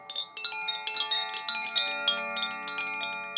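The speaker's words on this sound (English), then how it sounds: "which is the Koshi chime" A Koshi chime is played, giving a dense shimmer of bright, overlapping metallic tones struck in quick irregular succession, ringing and blending together close up with no talking.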